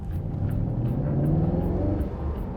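A Mercedes SLS supercar on new tires accelerates hard, its engine a deep, rising rumble heard from close by for a few seconds without any speech.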